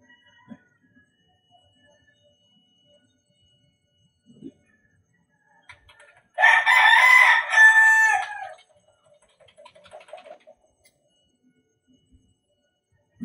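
A rooster crows once, loud and fairly close, in an otherwise quiet backyard setting, followed by a few faint clucks.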